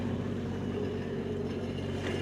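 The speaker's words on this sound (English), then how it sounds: "Here it goes, engine started" A yacht tender motorboat's engine running steadily after starting, a low, even rumble with a broad hum and faint higher whine, constant in level, heard close with no other sounds on top.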